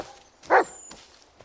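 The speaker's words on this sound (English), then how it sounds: "What are you barking at?" A single dog bark in the Blair Witch video game, one sharp, mid-distance woof set against a quiet forest background.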